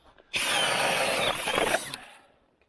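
A power auger bores a hole through lake ice for perch fishing, a loud continuous grinding whine lasting under two seconds before it cuts off, up close and alone.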